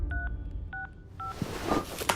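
Phone keypad dialing tones, three short beeps in quick succession, followed by faint rustling and handling noise.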